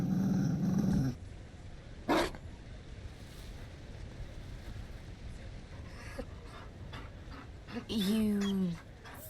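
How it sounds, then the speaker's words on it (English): A Mabari war dog in a fantasy video game growls in short rough bursts amid windy, surf-like ambience, with a loud growl near the start and another near the end, and voices talking around it. "You found a dog?"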